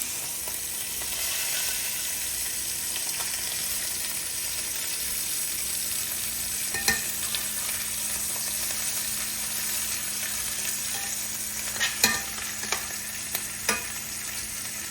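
Braised short ribs sear in a hot pan with a steady, dense sizzle, broken by a few sharp clatters and scrapes as the meat is turned near the end.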